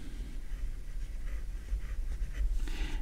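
A Picasso 902 fountain pen with a stiff medium nib scratches softly across paper in a quiet, continuous run of small strokes over low background rumble.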